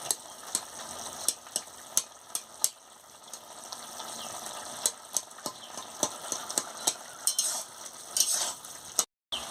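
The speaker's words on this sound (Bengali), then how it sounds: "সেই জন্য আমি আলুগুলোকে ঘেঁটে দিচ্ছি।" Potatoes are mashed and stirred in a pan of pumpkin-stem curry, making repeated sharp scraping and knocking strokes at an irregular rhythm, close and fairly loud, with no speech.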